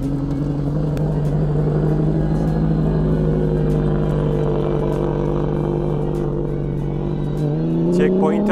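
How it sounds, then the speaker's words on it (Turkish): Toyota team rally car pulling away from a checkpoint, its engine droning steadily and rising in pitch as it accelerates, loud and close, with a sharp revving swell near the end. "Checkpoint'i aldı, gazlamaya başladı."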